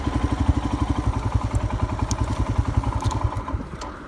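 A Royal Enfield Himalayan motorcycle engine thumps at a steady, rapid single-cylinder idle, close and loud with no talk.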